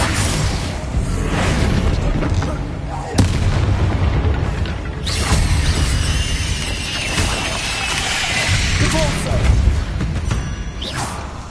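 Spell blasts and explosions in the Hogwarts Legacy video game, with booming impacts and whooshes recurring over a dense, loud battle soundtrack.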